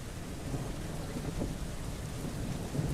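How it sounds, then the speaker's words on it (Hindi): Thunderstorm outside at night: a continuous hiss of heavy rain with low rolling rumbles underneath, steady and without voices. "जी, बाहर बहुत तूफान है।"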